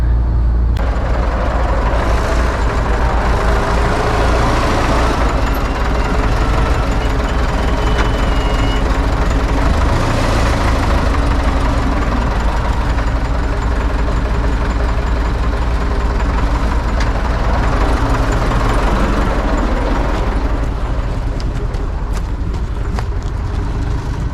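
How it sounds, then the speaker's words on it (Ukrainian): An MTZ tractor engine runs close by, a loud, steady, continuous drone that holds for the whole stretch with no talk over it. "Зараз виїжджаємо тракторцем."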